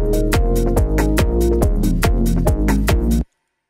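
Side-chain ducking on a music loop, driven by an envelope follower with the envelope generator at 50%, making the sound pump in a steady rhythm of about nine surges before stopping abruptly. Loud and close, no talking.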